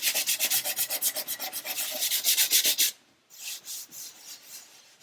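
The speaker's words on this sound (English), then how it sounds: "we can start moving through the grits of sandpaper and start bringing this down and blending it in" Sandpaper rubbing across a 1/400 scale Queen Mary 2 model ship hull in quick, rhythmic back-and-forth strokes, close and steady, then a short pause before softer, slower passes.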